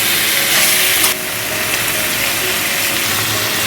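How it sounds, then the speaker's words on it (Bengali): Marinated mutton frying in spiced oil in a pan for a red mutton curry, a steady loud sizzle and hiss throughout, slightly stronger in the first second before settling to an even crackle. "মাটনটা আমাদের আগে থেকে ম্যারিনেট করা ছিল, সেই মাটনটাকে এর মধ্যে দিয়ে দিলাম। খুব ভালোভাবে কষিয়ে নিতে হবে।"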